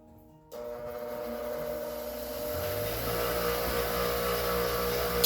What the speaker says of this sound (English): let me finish grinding a little bit more